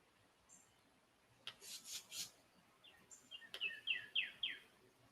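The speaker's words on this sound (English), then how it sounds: "Some of it is cicadas. And birds? Some of it are birds, yep." Outdoor wildlife sounds with birds and cicadas: short bursts of bright chirping and raspy, buzzing calls rise over a faint background hiss. The calls are quiet and scattered, clustered in the second half.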